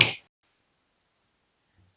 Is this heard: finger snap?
yes